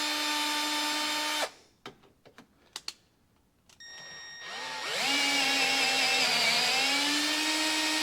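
A power drill bores through metal with cutting fluid. A high motor whine cuts off, then a few sharp clicks and taps follow. The drill spins back up into a loud, steady whine that rises and settles, close by with no talk.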